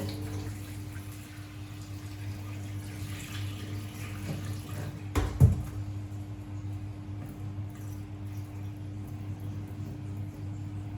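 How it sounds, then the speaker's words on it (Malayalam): Starchy water is poured off a pot of cooking rice in a home kitchen, a steady, soft running-water wash over a low constant hum, with a brief louder splash midway. "ഞാൻ കുറേ വെള്ളം ഇതുപോലെ ഒഴിച്ച് കളയും"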